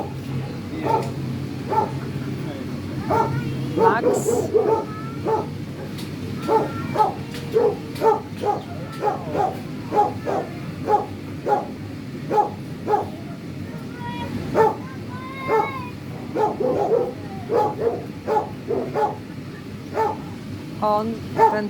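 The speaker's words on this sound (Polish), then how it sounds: "Tu jest Max. To jest taki owczarek niemiecki." A German shepherd named Max barks repeatedly at an animal shelter in Germany, with other dogs yipping and whimpering around him in a busy chorus of short, rhythmic barks, while someone speaks briefly.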